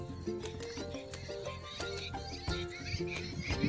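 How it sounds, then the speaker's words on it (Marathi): Birds chirp and call repeatedly among trees near village fields and a rain-filled pond, with short bright calls recurring in quick succession over a faint outdoor background. "झाडं वगैरे, पक्ष्यांचा आवाज येतोय बघा."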